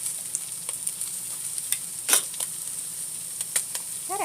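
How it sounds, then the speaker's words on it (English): Dehydrated onion goes into a hot pot over an outdoor camp cooking setup, producing a steady close sizzle with occasional light clinks and scrapes, no voices. "I'm going to add some more onion,"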